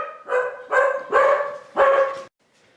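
Dogs bark close by, four loud, sharp barks in a rapid, uneven burst, followed by a short near-silent pause, with no talking over them.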